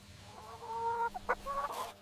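Laying hens in a garden cluck and call in short bursts, fairly near, with a brief sharper squawk midway and no talking.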